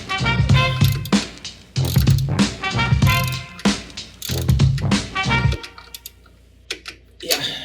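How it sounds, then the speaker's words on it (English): A hand ratchet tightens engine mount bolts on a 955 Porsche Cayenne S, giving several close bursts of rapid clicking strokes separated by short pauses, with faint background noise. "You need to tighten them down and then torque them to spec"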